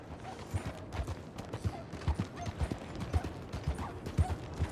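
Horse hooves clip-clop in a steady walking rhythm in Red Dead Redemption 2, fairly quiet and close, with faint creaks and mechanical sounds around them.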